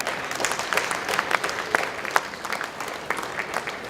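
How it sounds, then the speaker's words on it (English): An audience at a Rotary District 3010 event claps steadily, a dense crowd applause with a few sharper individual claps standing out. It holds at an even, moderate level throughout. "let's clap"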